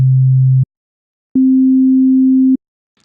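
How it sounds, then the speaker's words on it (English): A synthesizer plugin sounds two pure sine tones in turn: a low steady note for about half a second, a pause, then a slightly higher sustained note lasting over a second, each starting and stopping cleanly with no other sound. "This synth gives off a sine wave to which other waveforms can be mixed, up to replacing the original sine."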